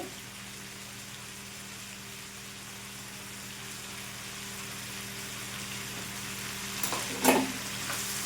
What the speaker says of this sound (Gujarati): હવે પાછું બધું મિક્સ કરીને આપણે બટેકાને ધીમા તાપે આપણી જે ચિપ્સ બની ગઈ છે તેને કૂક થવા દઈશું